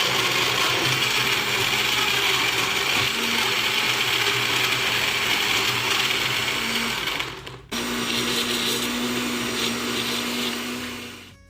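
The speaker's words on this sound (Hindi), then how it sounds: "अब जी इसको हम कर लेंगे ब्लेंडर में" An electric blender whirs loudly and continuously, mixing Punjabi mango lassi with yoghurt and ice, dipping for a moment when paused and then restarting at a steady roar with no talk.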